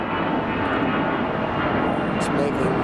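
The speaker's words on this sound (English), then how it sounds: "We got this plane over here that's making an enormous amount of noise." A fixed-wing airplane at LAX roars with loud, steady engine noise, a dense continuous rumble that fills the scene without break, with no talk over it.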